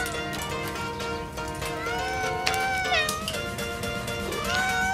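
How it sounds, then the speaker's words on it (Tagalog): Several meows from a cat on a farm in Saudi Arabia sound close and clear, with bending tones, under faint voices and some background shuffling. "Ang gandang mga pusa."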